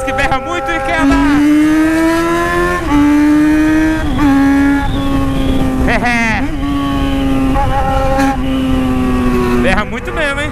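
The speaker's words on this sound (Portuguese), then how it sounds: "Eu sou uma XJ6 que berra muito e quer andar." A Yamaha XJ6 motorcycle engine roars steadily while riding, its pitch climbing and dropping through several rev changes over sustained loud engine noise, with a voice talking over it.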